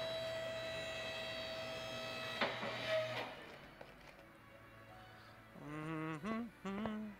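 A car lift in the Car Mechanic Simulator 2018 video game raises a car with short whining motor bursts near the end, following a steady electrical hum and a couple of soft thuds.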